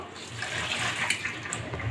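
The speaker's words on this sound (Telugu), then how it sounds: "ఈ నీళ్ళు అయితే చల్లేస్తున్నాను" Water sprinkled onto a hot, greasy steel kadai during cleaning gives a steady, close hissing wash of sound with small splashy peaks, lasting about two seconds with no talking.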